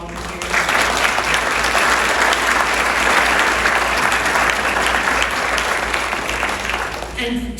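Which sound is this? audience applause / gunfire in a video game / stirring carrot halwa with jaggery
audience applause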